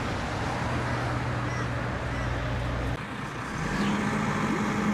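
Road traffic streams past a busy roadside location, a steady broadband roar of passing cars with lower engine hums shifting as vehicles go by, moderately distant and continuous.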